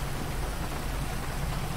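Steady rain hisses evenly in GTA V, a constant dense wash of drops with a low rumbling undertone, moderately quiet and unbroken, with no voices.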